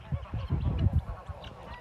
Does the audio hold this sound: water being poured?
no